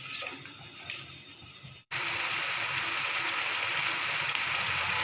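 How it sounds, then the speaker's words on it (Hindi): Water is poured from a cup into a pan of fish curry masala, a sudden steady rushing splash and sizzle that starts partway through and carries on loudly to the end, after quieter kitchen sounds. "मैं 1 कप पानी डालूँगी।"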